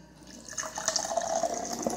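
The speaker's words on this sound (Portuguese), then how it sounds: "Vou colocar 75 ml de água." Water is poured into a yakisoba sauce of soy sauce in a home kitchen making chicken yakisoba: a soft start, then a brighter, splashy trickle of filling liquid that runs on for about a second and a half.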